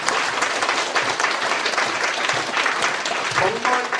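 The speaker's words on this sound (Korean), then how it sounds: "한번 큰 박수로 서로 격려하시고 넘어가면 좋겠습니다." A hall audience at a Korean commemoration ceremony for the publication of a Syngman Rhee collected works claps loudly and steadily, a dense, close wash of applause lasting a few seconds.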